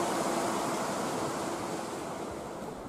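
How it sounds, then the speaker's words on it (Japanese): The Nagura River flowing beneath a bridge near a winter icefall makes a steady, broad rushing wash of water. It is loud and continuous for the whole stretch, with no voices. "橋の下には名倉川が流れています。"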